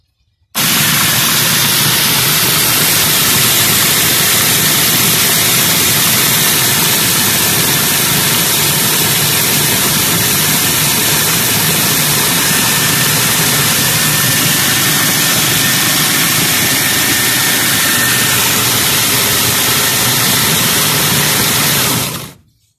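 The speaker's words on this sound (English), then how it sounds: "I'm going to grind them until they are sort of sand size grains." Electric grinder crushing eggshells down to sand-size grains for vermicompost, a loud, steady broadband grinding roar that runs unbroken for about twenty seconds before cutting off.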